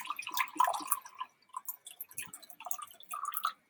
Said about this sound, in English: I'm going to open up my hydrogen peroxide, and I'm going to pour half a cup.